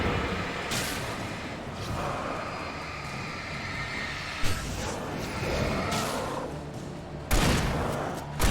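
Pump-action shotgun fire in the video game Alan Wake: a few heavy, booming blasts spaced seconds apart, each cutting sharply through a dense, roaring game soundscape.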